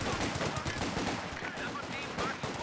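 Machine gun fire in Company of Heroes 2, an MG42 pushing up in a 2v2 match, with dense, continuous rattling bursts and battle noise filling the whole stretch, loud and close throughout.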